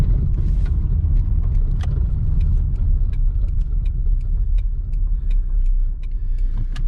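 A 1998 Toyota Camry on a drive after a rod bearing replacement, its steady low engine and road rumble continuous from inside the car, with faint ticking and clicks over the drone and no talking.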